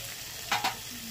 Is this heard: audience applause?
no